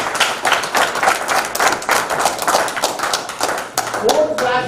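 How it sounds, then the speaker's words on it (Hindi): An audience claps during a talk on a home water-purification machine, a dense run of sharp taps at steady loudness for the whole stretch, with a voice briefly heard near the end. "इसके लिए तो ताली बजनी चाहिए"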